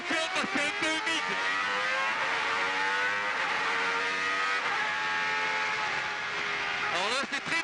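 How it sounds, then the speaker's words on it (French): Renault Espace F1 pulls away in first gear on a damp surface, its high-revving engine climbing loudly and steadily with rising harmonic whine, close and continuous, then a gear change near the end. "on enclenche la première, on met un peu de gaz, ça devrait y aller"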